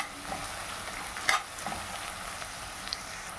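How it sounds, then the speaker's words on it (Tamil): Onions and green chillies frying in a pan for vegetable salna, a soft steady sizzle with a few faint stirring scrapes, fairly quiet. "நல்ல பொன்னிறமாக செவந்து வரட்டுங்க வெங்காயம்."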